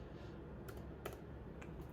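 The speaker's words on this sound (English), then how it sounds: "the keyboard itself works." Light, sparse keystrokes on a Microsoft Surface Pro 9 keyboard, a few soft clicks scattered over quiet room hiss.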